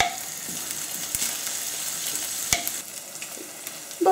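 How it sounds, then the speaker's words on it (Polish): Bacon sizzles and spits in a small amount of oil in a frying pan, a steady close crackle broken by a few sharp stirring clicks against the pan. "najpierw będę podsmażała boczek"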